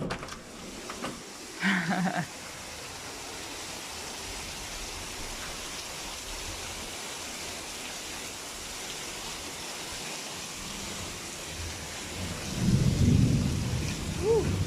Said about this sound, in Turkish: İnanılmaz bir yağmur bastırdı